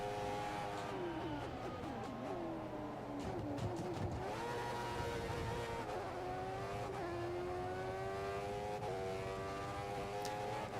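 Formula 1 race car engines in F1 2014 with a modded fantasy setup, a loud, steady high-revving whine with shifting pitch as cars run the final lap, continuous throughout.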